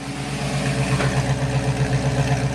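A diesel 350 with a 425 crank idles steadily in an 1986 Oldsmobile 442, a close, even rumble with a regular pulsing lope and no talk.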